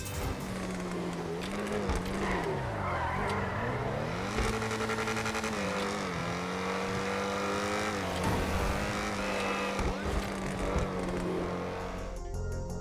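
A video game car engine in GTA Online, revving and shifting through gears with rising and falling drones, loud and continuous without any speech.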